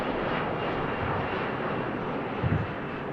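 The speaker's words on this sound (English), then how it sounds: "Oh, another Delta taking off." A Delta airliner taking off, heard as a steady, broad roar of jet engines that holds at an even level throughout, with no voices over it.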